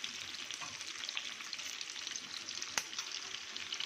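Capsicum and onion sautéing in oil in a pan, kept crunchy: a steady, moderately quiet sizzle with a couple of sharp clicks from stirring, no voices.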